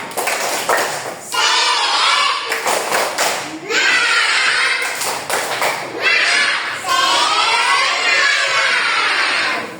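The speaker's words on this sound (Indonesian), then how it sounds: "Ayo kita tepuk semangat dulu, ayo." An elementary classroom of children does a rhythmic spirit clap, bursts of sharp patterned hand claps and thumps alternating with loud group chanting and shouts, repeated in several rounds up close.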